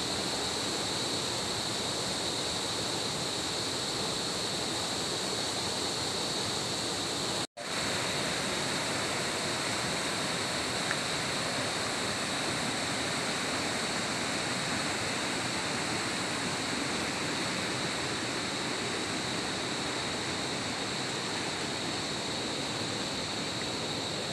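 Loud, steady roar of a large, fast-flowing river in the Philippines, a dense continuous rush of water close by, with a brief dropout partway through.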